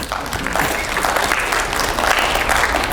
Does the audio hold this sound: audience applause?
yes